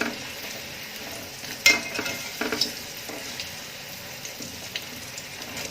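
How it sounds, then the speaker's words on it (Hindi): Moong dal namakpare (nimki) frying in hot oil, a steady soft sizzle with a few brief clinks of a utensil turning the pieces, close by and with no talk. "इन्हें दोनों तरफ से उलट पलट के हल्का गोल्डन ब्राउन होने तक फ्राई कर लेंगे"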